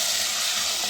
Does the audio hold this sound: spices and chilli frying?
yes